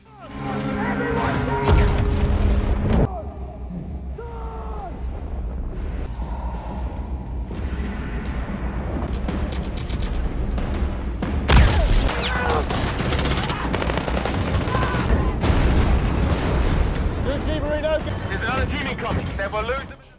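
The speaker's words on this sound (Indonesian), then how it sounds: "Girokopter yang disiapkan untuk melarikan diri hancur terkena tembakan roket dari drone" Dense, continuous action-film barrage of gunfire and drone-fired rocket explosions destroying a gyrocopter, with heavy rumbling booms, loud and sustained, with a big blast near the middle.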